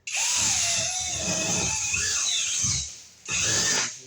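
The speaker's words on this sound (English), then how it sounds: "we can drill a couple little holes in here" A power drill whines loudly in a long burst with grinding as the bit bites into a wall, stops briefly, then starts again.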